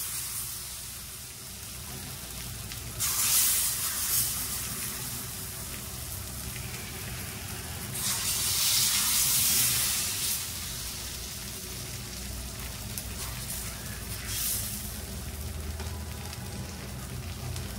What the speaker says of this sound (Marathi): तवा आता ही फुल स्पीड वरती आहे, त्यावर मी आता थोडं झाकण ठेवते। एक 10 ते 15 सेकंद आपल्याला हे वाफवून घ्यायचंय।